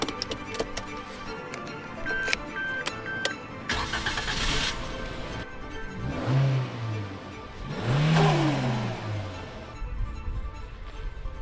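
A Suzuki Jimny Turbo's engine cranks and fires up near the microphone, followed by a couple of rising revs, with some ticking and clicks at the start and no talking.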